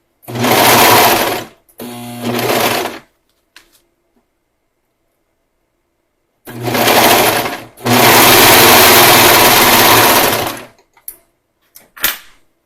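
Sewing machine running a stretch stitch on fabric for a gaiter, in several close, loud bursts of rapid mechanical whirring separated by pauses, with a few short clicks near the end.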